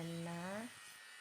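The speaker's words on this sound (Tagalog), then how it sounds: "At saka na lang inililipat sa maliit na grinder para ma-fine yung kanyang pagkalinis." A small electric grinder whines at a high, steady pitch while polishing a bolo blade in a blacksmith's workshop, then the tone drops and fades as the tool winds down.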